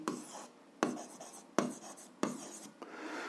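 Pen strokes as an algebra solution is written out, four distinct bursts of scratchy scribbling separated by short pauses, close and fairly quiet, with no talking.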